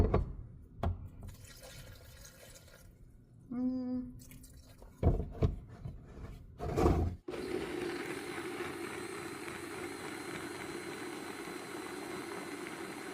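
Soaking liquid poured from a cup into a blender jar with vinegar, salt, oregano and garlic for Mexican-style chorizo: a short close trickle and splash, some knocks, then a steady loud whir of the blender running.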